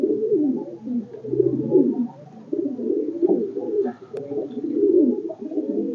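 Madrasi pigeons in a loft coo in low, throaty rolling phrases, close and continuous, with overlapping calls and brief pauses.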